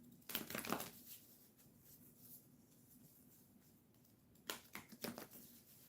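Tarot cards shuffled in two quick bursts, soft riffling and slaps close by, with a quiet pause between them.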